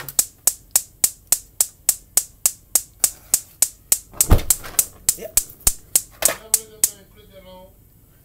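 Rapid, evenly spaced sharp clicks of a gas stove igniter on a burner, about twenty in a row, with a brief spoken word partway through before the clicking stops.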